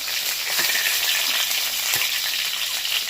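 Pointed gourd (potol) fries in oil with a dense, loud, continuous sizzling hiss and faint low knocks beneath it, close by, with no speech.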